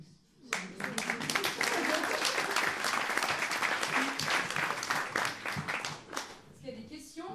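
An audience at a literary talk bursts into applause for the moderator, a dense, lively wash of many hands clapping that holds steady for several seconds before thinning out, with a voice at the very start.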